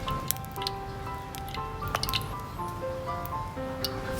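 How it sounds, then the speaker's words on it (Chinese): Cooking oil hits a heated wok and sizzles with dense crackling and small spitting pops, close and steady throughout with no talking. "倒入一点油啊"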